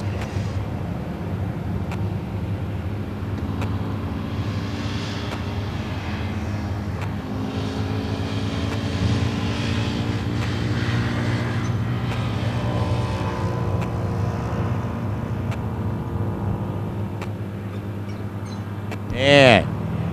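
A 1967 Chevy II Nova drag car with a 565-cubic-inch engine, running in B-Gas eliminations, roars with other race cars in a loud, sustained engine drone. An announcer talks over the noise throughout.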